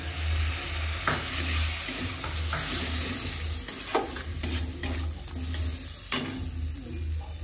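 Masala for a prawn malai curry sizzles hard in a pan after milk made from milk powder and hot water is added, a steady close frying hiss broken by scraping stirs and a few sharp clinks.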